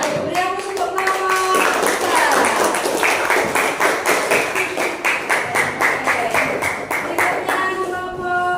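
Audience applause fills a group presentation session at an Islamic education program, with steady, dense clapping from many hands held close and loud for several seconds, with voices mixed in.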